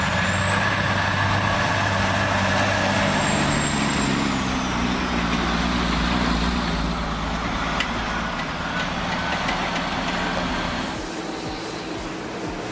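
Loaded log truck rumbling down the road, a heavy, steady engine drone with shifting low tones and a brief high whine early on, close and loud, easing near the end.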